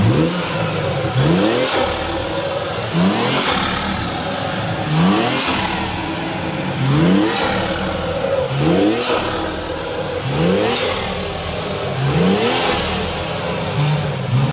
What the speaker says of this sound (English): We haven't really done much mods to the engine itself except for this front mounted air intake, right? And you guys already know how that sounds.